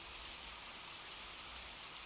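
Rain falls steadily in a forest, a dense even hiss of drops on leaves and ground, close and constant with no other sounds.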